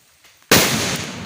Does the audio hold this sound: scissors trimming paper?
no